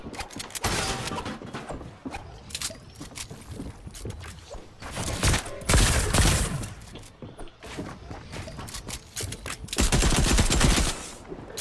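Gunshots in the video game Fortnite, with repeated bursts and single cracks, loud clusters around the middle and near the end, mixed with mechanical clicks and breaking effects.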